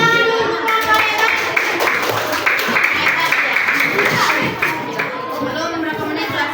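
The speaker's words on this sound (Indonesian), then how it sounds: "Tepuk tangan dulu untuk kelompok hebat" Schoolchildren clap for a classmate group in a classroom lesson, loud mixed clapping blended with busy chatter and kids' voices throughout.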